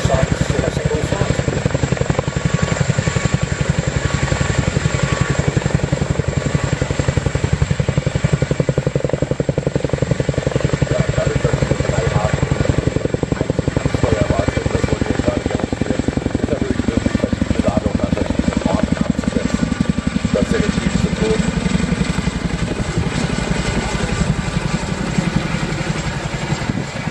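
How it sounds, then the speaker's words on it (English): A Royal Air Force Boeing H-47 Chinook Mark 6 twin-rotor helicopter flying at an air show, its loud, constant thudding rotor beat and engine roar filling the whole stretch, with a voice commentating over it. "This particular aircraft, a Chinook Mark 6 from the 27 Squadron"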